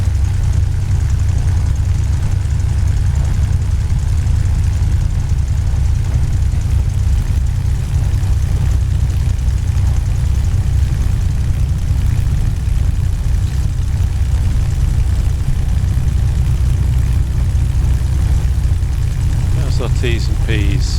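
A P-51D Mustang's piston engine idles at Duxford in a video game while the aircraft taxis, a steady, loud, low rumbling drone that holds unchanged throughout, with a brief higher clatter near the end.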